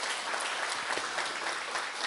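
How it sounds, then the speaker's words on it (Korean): An audience applauds the presenters at an academic lecture, a steady wash of clapping that stays even from start to finish with no voices over it. "지금까지 발표해 주신 야닉 브린턴 교수님과 해유 스님께 박수 한번 부탁드리겠습니다."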